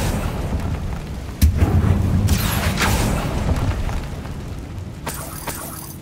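An Accio summoning spell cast in Hogwarts Legacy: a sudden booming burst with a rushing magical whoosh that swells, then fades over several seconds above a steady game background.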